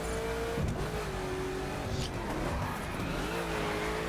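Koenigsegg Agera R in drift spec sliding in the racing game The Crew, with a loud sustained engine drone that shifts pitch as it revs, under continuous tire squeal and skidding, no talk.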